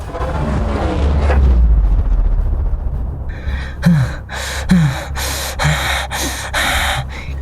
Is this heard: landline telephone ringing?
no